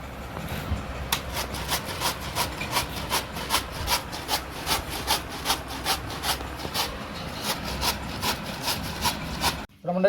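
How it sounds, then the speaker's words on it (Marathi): Cabbage grated by hand on a metal grater, a steady close rasping rhythm of quick back-and-forth strokes repeating evenly for several seconds, then stopping abruptly. "आम्ही कोबी अशी किसणीवरती किसून घेतोय"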